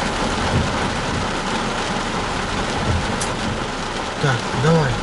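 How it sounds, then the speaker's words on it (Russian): Steady rain falls around a truck on an American long-haul route, a dense, even hiss that holds throughout with no pauses, while a voice briefly breaks in near the end. "Прекращайся, дождик."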